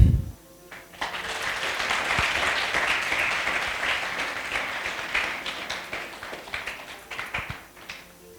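A crowd at an eloquence debate event applauds to welcome a speaker, dense sustained clapping that swells after a brief opening sound and slowly tapers off.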